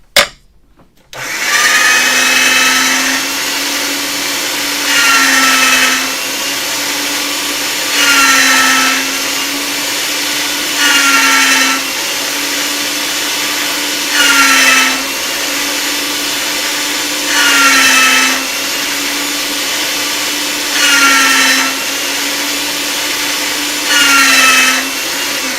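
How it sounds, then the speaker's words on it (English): Polymer clay feeding through a hand-cranked pasta machine's rollers, a steady mechanical whirring drone with a regular, repeating rhythm of brighter grinding surges about every three seconds, close and fairly loud. "in the pasta machine."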